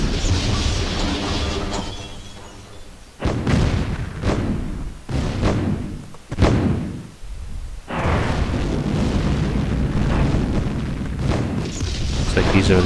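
Deep booming explosions from Orcas striking a power plant in a Dune-style real-time strategy match on Sedona's Pass, several heavy blasts in quick succession amid continuous battle noise, with a voice commentating over them.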